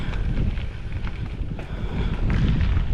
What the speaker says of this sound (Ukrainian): А вітер аж прохолодний такий.